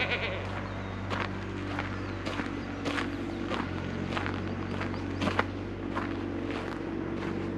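Pack goats on a vineyard homestead call out before feeding, a run of bleats spread across a steady farmyard hum, some louder and nearer than others, with footsteps moving among them.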